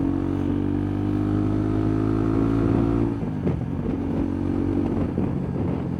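Steady engine drone of a motorcycle riding along a highway on a solo trip from Bangalore to Puducherry, loud and close, with a brief shift in tone midway.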